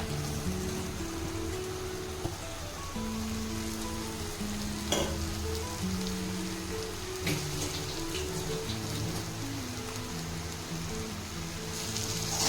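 Mashed potato paste being stirred with spices in a pan over a low flame for Bengali egg chops, a soft steady sizzle with a couple of brief scraping strokes, close, with faint background music and no talk.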